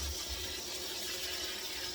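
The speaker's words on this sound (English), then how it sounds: "we're just going to give them a quick rinse with cold water" Cold tap water runs steadily over cranberries being rinsed, a continuous close hiss and splash with no pauses.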